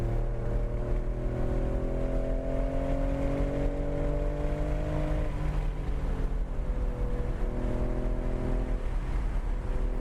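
A race car at Nelson Ledges accelerates hard out of a corner, its engine note climbing steadily through two long pulls with a shift between them. The sound is fairly faint and unbroken, with no talk.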